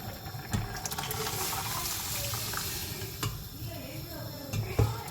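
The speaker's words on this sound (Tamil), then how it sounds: "தண்ணி வச்சு அலசி" Water splashes and runs in a kitchen sink during rinsing while Tamil paruppu kuzhambu is being cooked, a steady close wash of sound with occasional sharper knocks and clatters.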